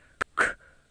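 Thandi, a leopard, gives two short breathy chuffs up close, a quick puff followed by a longer exhaled one, with quiet background between them.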